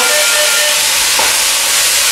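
Beef sears in a hot pan for Oviedo-style carne gobernada, giving a loud, constant, close sizzle and hiss that fills the whole clip without any talk.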